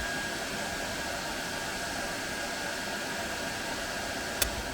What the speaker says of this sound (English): you will need a heater gun or hair dryer set to the highest temperature